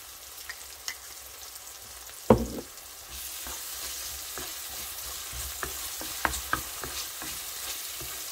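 Vegetables sauté with oyster sauce in a pan, a steady sizzle of frying with a loud clatter early on and intermittent stirring clicks.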